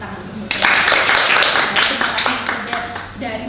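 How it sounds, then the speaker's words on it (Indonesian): A room of teachers at a differentiated-learning training workshop bursts into loud applause, dense clapping that swells and holds for a few seconds before thinning out, with voices mixed in. "kita berikan tepuk tangan untuk Mr."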